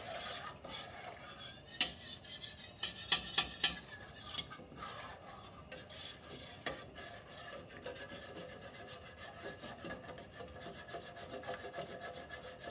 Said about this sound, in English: we're just scraping all those bacon bits from the bottom of the pan